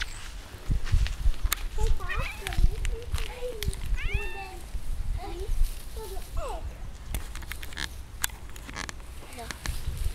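A cat gives several short, rising meows over busy background talk and footsteps, with voices near and far throughout.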